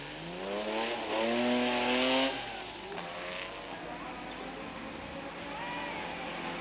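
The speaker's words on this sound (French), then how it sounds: "La superbe Type 10, qui nous offre un joli dérapage" A 1950s Lotus Type 10 sports car skids at a vintage racing event, its tires squealing in rising, wavering tones over the engine note, loudest at the start and then settling into a fainter drone.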